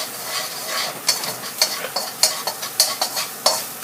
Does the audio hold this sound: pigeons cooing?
no